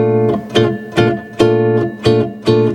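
Jazz guitar strums a syncopated bossa nova pattern, clear plucked chords repeating in a steady two-bar rhythm, close and alone with no voices.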